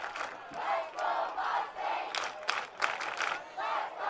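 A crowd at a Class 3A girls high school soccer championship game chants and cheers in rising, rhythmic bursts, a steady roar of many voices filling the stadium.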